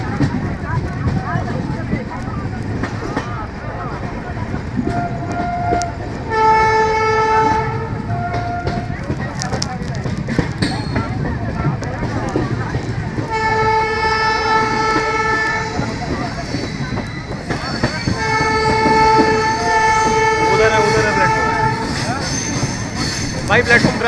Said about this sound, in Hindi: ट्रेन ने ट्रैक चेंज कर लिया और 1 नंबर पे गई है हमारी ट्रेन